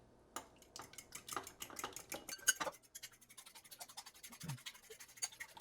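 A fork beats eggs in a bowl at home for breakfast, making a close, rapid, steady clatter of metal tapping and scraping against the bowl that runs throughout, with no voices.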